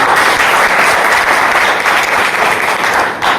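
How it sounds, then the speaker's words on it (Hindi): Loud audience applause at a recognition event for someone who reached a star level, a thick continuous burst of clapping that holds steady and fades slightly near the end. "एक बार जोरदार तालियां।"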